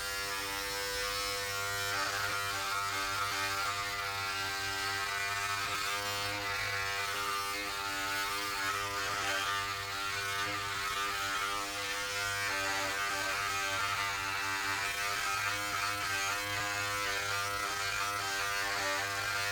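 Braun Series 7 electric body groomer shaving an underarm, a close, continuous high-pitched motor buzz that stays steady and loud from start to finish with no talking.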